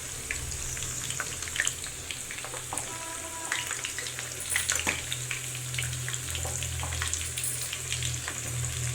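Chicken garelu fritters fry in hot oil, a steady close sizzle and bubbling hiss with occasional crackles and a light stirring clatter, continuous throughout.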